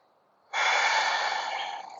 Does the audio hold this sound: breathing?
yes